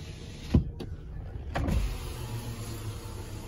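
Rear power window on a 2017 Nissan Pathfinder runs with a steady electric motor whine, starting with a soft thump and continuing evenly for a few seconds, close and alone.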